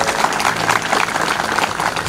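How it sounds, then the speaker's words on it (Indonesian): Audience applause at a talk about turning pain into light: a short, dense burst of clapping from a crowd, steady and fairly loud for about two seconds. "tepuk tangan dulu"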